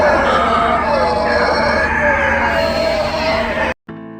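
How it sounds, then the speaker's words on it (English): Howler monkeys calling from trees near the Gatun and Agua Clara locks on the Panama Canal, a continuous dense roaring chorus that is loud and steady, cut off abruptly near the end. "That is the sound of howler monkeys who hang out in these trees."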